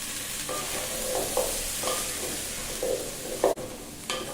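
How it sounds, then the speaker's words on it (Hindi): Potato, cauliflower, carrots and green peas sautéing in a pan for veg pulao, a steady low sizzle broken by several scraping stirs of a spoon, with a sharper clatter near the end; no voices. "आलू और गोभी को 2 से 3 मिनट भून लिया। इसमें गाजर भी भून ले रहे हैं।"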